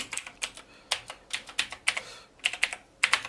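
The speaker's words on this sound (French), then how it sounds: "Et là, je tape mon mot de passe." Password typed on a computer keyboard during a remote desktop login, a quick run of clicky keystrokes in irregular bursts, close and fairly quiet, with no talking.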